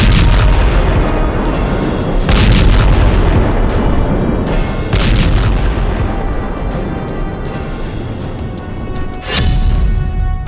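Heavy booming explosions of bombs weighing hundreds of kilograms in the Israel-Gaza war roll through a constant deep rumble, with three or four louder blasts standing out, distant but powerful.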